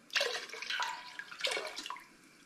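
Lime juice, squeezed from eight limes, poured into a pan while brewing hops, lime and ginger cider, giving a soft splashing trickle in two close bursts that tapers off at the end.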